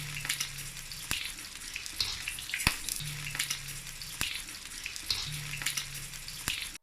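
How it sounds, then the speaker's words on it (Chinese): Shrimp deep-frying in hot oil for salt-and-pepper shrimp, a steady bright crackling sizzle close by, broken by a few sharp pops and spatters with no talking. "把虾倒入油锅，"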